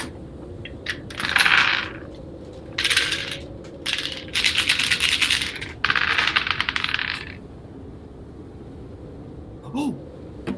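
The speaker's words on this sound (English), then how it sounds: "Please roll your 6 dice." Six dice rolled during a tabletop role-playing one-shot, several bursts of clattering and rattling on a hard surface, separated by short pauses.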